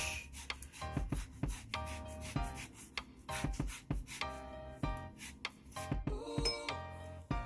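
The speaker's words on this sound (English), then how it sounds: "we're gonna zest one orange" An orange is zested for hot cross buns: repeated short scraping rubs against a grater, close and fairly quiet, in an uneven rhythm with small pauses and no talking.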